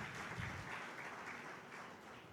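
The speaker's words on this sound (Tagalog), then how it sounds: "Pumalakpak ng malakas sa ating mahal na Panginoon." A church congregation claps loudly during a Filipino preaching service, a dense steady burst of applause lasting a couple of seconds with no talk over it.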